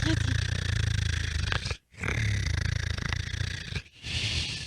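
A cat's low, rumbling purr runs steadily beneath a busy, noisy background, broken by two brief near-silent gaps.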